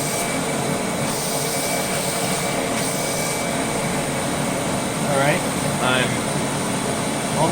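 A Rainbow AquaMate carpet cleaning machine runs on rinse with a loud, continuous broadband drone throughout, and a brief voice is heard over it partway through.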